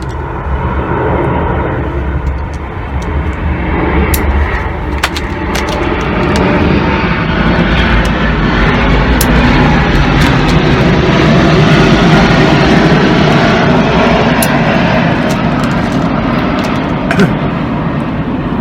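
Propeller or jet airliners passing over near Luton Airport, a steady broadband engine roar that holds loud and continuous throughout, swelling slightly in the middle as a plane passes overhead, with no talk.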